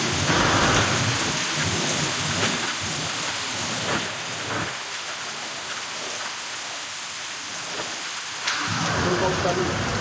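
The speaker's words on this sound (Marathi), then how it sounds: "पाऊस चालू आहे." Steady rain falls outdoors at night, a dense continuous wash with low rumbles suggesting thunder, loudest at the start and again near the end.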